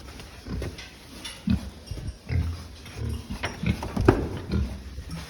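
A pig grunts and snorts in short irregular bursts while being moved onto a scale at a farm, close by, with scuffling and knocks from its movement between the calls.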